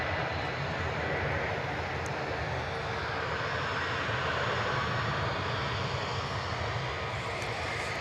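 Jet engines of a parked Qatar Airways airliner idle at DFW airport, a steady, loud, broadband roar that holds constant throughout without voices.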